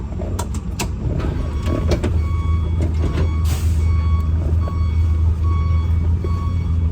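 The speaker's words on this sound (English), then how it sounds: "I'm just running around the yard, revving it and changing gears like I would on the road" An AEC Merlin bus rumbles loudly in a yard with a deep, continuous engine drone, its revs changing as gears shift, while sharp repeated clicks and a brief hiss of air sound over it.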